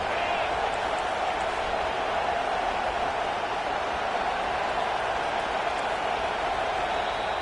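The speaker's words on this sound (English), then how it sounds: "Decibels rising as the crowd gets behind this defense on third down." A college football stadium crowd at USC versus Utah roars for the defense on third down, a steady, loud wash of cheering and noise sustained throughout without a break.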